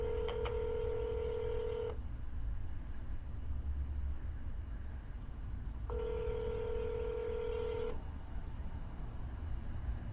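A telephone line rings during a real estate cold call, two long ringback tones a few seconds apart over a steady background hiss, with no voices.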